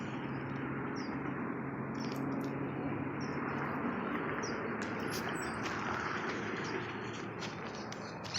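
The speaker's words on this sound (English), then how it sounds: "the birds chirping, singing their song." Birds chirp and sing outdoors, short high calls scattered over a steady hiss of distant road traffic, faint and fairly far off.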